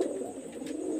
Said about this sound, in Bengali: এটা হলো লাল পাহাড়ি কবুতর।